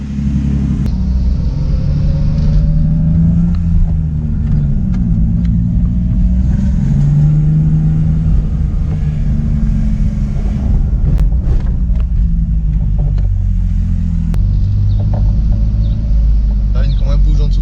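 The exhaust line of a BMW E30 gives a deep, continuous low rumble that runs steadily throughout, with people talking over it.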